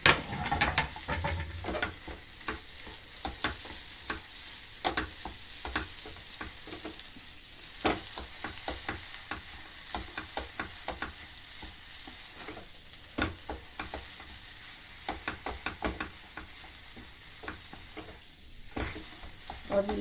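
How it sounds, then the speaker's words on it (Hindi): Peas kachori filling with grated ginger and green chilli stir-fries in a pan: a constant hiss of frying under repeated scraping strokes of a spoon, close and fairly loud, with no voices. "अब इसे 1-2 मिनट और भूनेंगे"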